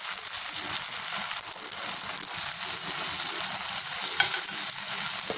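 Dough roasting in oil on a pan for a homemade breakfast dish, giving a steady close sizzle and frying hiss with scraping and stirring sounds throughout.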